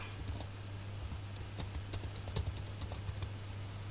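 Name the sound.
typing on a computer keyboard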